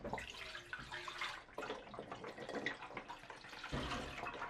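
Liquid from a cider-making batch poured down a drain, a close splashing, gurgling rush that runs unbroken for a few seconds with short dips in flow.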